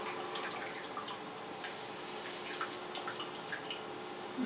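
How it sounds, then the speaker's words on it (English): Water drains and trickles from an inner pot lifted out of a larger pot of hot water while prepping tomatoes and vegetables for salsa, a faint, continuous patter of drips with small splashes. "I'm going to lift this inner pot out, being careful to let that water drain out."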